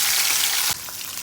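Marinated mutton chops drop into half a cup of hot olive oil, setting off a loud, steady sizzle with a brief thump as they land; the frying continues strongly throughout, with no talking.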